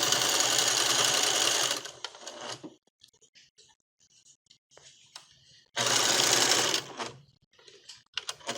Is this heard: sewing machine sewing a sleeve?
yes